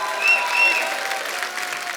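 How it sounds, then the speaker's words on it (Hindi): A studio audience gives loud, steady applause for film stars Kartik Aaryan, Bhumi and Ananya, continuous clapping with faint whistles or cheers riding on top. "एक बार जोरदार तालियां हमारे स्टार्स के लिए।"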